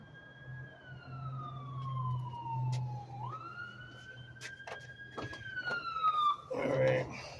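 An emergency vehicle siren wails in the background, gliding down then rising again in a long sweeping tone over a steady low hum, with a sharper burst of noise near the end.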